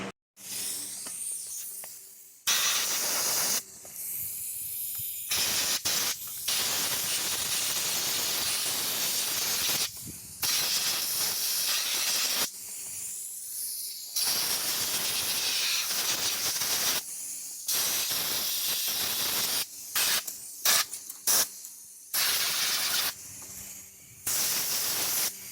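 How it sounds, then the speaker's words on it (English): Bursts of compressed air hiss loudly and steadily, blowing debris off an 80cc motorized bike engine outdoors, repeated many times with short pauses between blasts, some long, some quick. "blow all this mouse poop off the engine with some compressed air outside"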